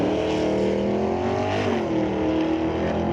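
Drag racing at Mission Raceway Park, a big 399 Ford-powered car pulling a wheelie on launch down the strip, engine roaring loud and steady close by with a rising harmonic whine throughout.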